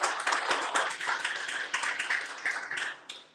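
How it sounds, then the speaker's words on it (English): Audience applause at a business growth event, a round of clapping from a modest crowd with individual claps distinct, fairly close and lively before tapering off at the end. "Let's give him a round of applause."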